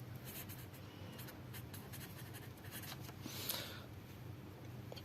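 A pen scratches out figures for a physics numerical on simple harmonic motion and waves, with faint, close strokes and short scribbles running on and off against a quiet room, then a louder burst of rubbing near the end.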